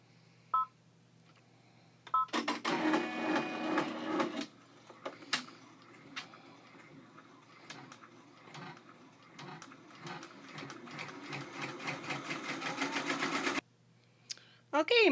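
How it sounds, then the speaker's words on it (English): An embroidery machine sews a placement stitch onto tearaway stabilizer in a hoop, a rapid mechanical ticking and whirring that runs steadily nearby for about eleven seconds, with brief beeps before and after. "my machine just finished stitching the placement stitches onto my hoop"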